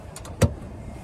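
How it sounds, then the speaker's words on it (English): A 2017 Toyota Camry Hybrid's fuel door pops open with a single short, sharp click, close and clear over a quiet background. "Or I'll pop the gas cap."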